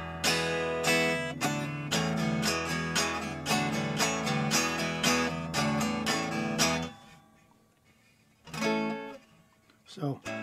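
A jazz archtop guitar played unplugged rings out in a run of bright, close, strummed chords and single notes, then pauses before a few final plucks.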